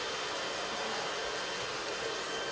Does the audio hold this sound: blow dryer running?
yes